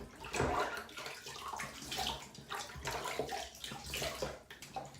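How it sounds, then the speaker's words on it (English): Water runs steadily from a tap as someone rinses their face after shaving, a continuous close splashing and gurgling that flows on without a break for the whole stretch. "let me rinse off real quick."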